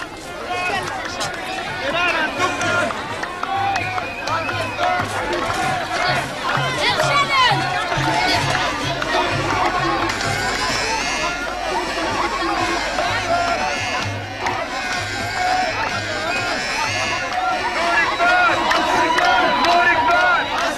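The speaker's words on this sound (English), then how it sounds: "pilgrims flock in by the thousands to celebrate the feast of Mary" Thousands of pilgrims crowd the Deir Dronka monastery in Middle Egypt for the feast of Mary, a loud, dense hubbub of voices and chanting that carries on without break, with music or drumming mixed into the din.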